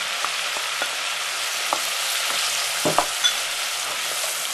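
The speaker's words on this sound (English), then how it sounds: "continue to saute over a medium heat for a few minutes until they just begin to soften and colour" Onions sautéing over medium heat in a pan for a Brussels sprout and butter bean soup, a steady hissing sizzle with occasional soft spoon knocks and scrapes, close and unaccompanied by speech.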